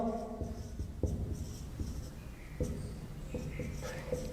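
Chalk or marker tapping and scraping on a board as numbers are written, a series of short knocks and strokes at an irregular pace, close and fairly quiet with no talking over it.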